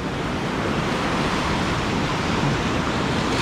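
Stormy sea at Anapa, a continuous, loud, broad roar of crashing waves mixed with gusting wind against the microphone, with no voices.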